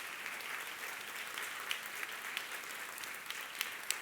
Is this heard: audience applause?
yes